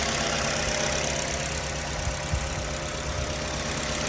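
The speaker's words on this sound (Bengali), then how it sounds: "ইঞ্জিনের সাউন্ডটা শুনে" A 2014 Hyundai Accent car engine idles steadily at close range, a continuous mid-low rumble with a faint rough, smoky edge and one small bump near the middle, with no talking.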